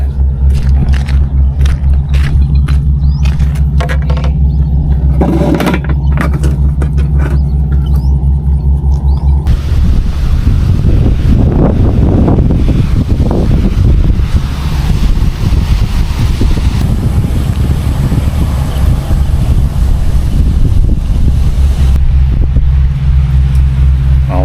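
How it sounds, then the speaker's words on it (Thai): Strong wind buffets and rumbles across the microphone in loud, sustained gusts ahead of rain while fishing outdoors, with an engine-like drone underneath and no speech. "ลมมาแล้ว ลมมาแรงมากเลย"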